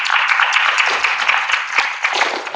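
Audience at a Minet Botswana and Hollard insurance product launch applauding to welcome a speaker, a dense, continuous burst of many hands clapping, fairly loud and steady throughout with no talk over it.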